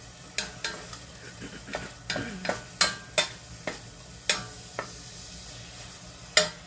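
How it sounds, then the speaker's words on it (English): Ground hamburger meat fries in a pan with a steady sizzle. A spatula stirs and scrapes it in a run of sharp, fairly close knocks at an uneven rhythm. "We're almost done cooking the hamburger."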